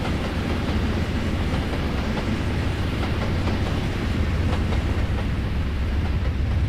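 A deep, continuous GE diesel locomotive rumble from the Trainz video game drones steadily throughout, broad and heavy with a faint rhythmic clatter underneath.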